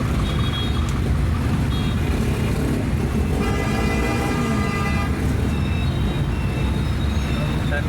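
Dense street traffic near Karbala rumbles steadily, with engines idling and a few short car horn toots cutting through the continuous roar, close and fairly loud throughout.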